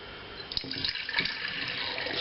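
Liquid with yeast in it is poured gently from one jar into another, leaving the sediment behind. It makes a continuous soft trickle and splash, close and fairly quiet, with a few small clinks partway through.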